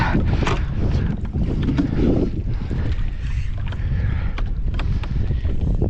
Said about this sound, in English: Wind's pushing us back up here onto this island.